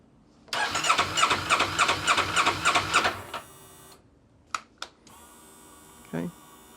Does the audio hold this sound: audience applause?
no